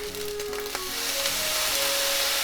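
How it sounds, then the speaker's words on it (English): Loud, continuous sizzling as soy sauce hits a hot pan of chicken fried rice with scallion, a steady crackling hiss with faint tones of stirring, no one speaking. "And you hear this sizzling sound."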